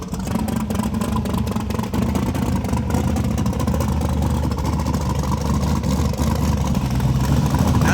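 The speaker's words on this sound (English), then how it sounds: "Now this is a big block Chevy twin turbo deal." A twin-turbo iron big-block Chevy engine in a Chevy Nova runs on a hub dyno, a loud steady roar with a throbbing low rumble and a whistling turbo whine, held at high revs throughout with no pause.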